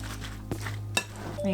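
Ferment ingredients, including a couple of tablespoons of seasoning, being mixed together in a bowl: two sharp utensil knocks against the bowl over soft stirring, close and fairly quiet.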